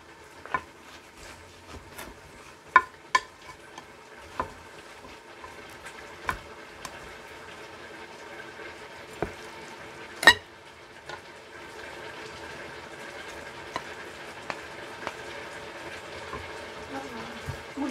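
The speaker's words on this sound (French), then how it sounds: "maman est en train de faire chauffer son huile de palme avec la casserole" Soft sizzling and crackling from palm oil heating in a pan, with scattered sharp pops and light clinks throughout, no voices.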